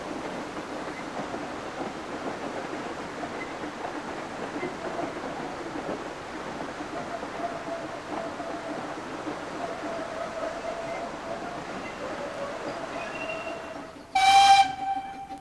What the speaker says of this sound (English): After running round its train, Peter Sam departs once more for Talyllyn.